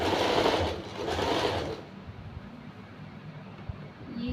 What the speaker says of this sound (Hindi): दोनों साइड्स पकड़ेंगे और सिलाई को लगा देंगे।